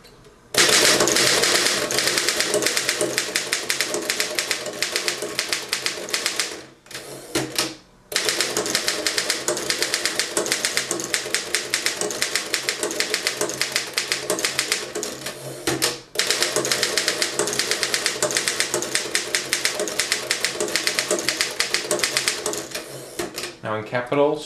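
A 1924 Underwood No. 3 manual typewriter with a 14-inch carriage types a full sentence, loud dense key strikes clattering rapidly and steadily with two brief pauses, close up.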